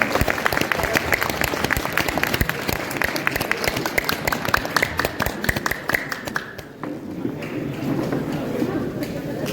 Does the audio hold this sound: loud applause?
yes